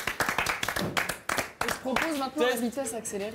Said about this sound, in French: on peut faire des applaudissements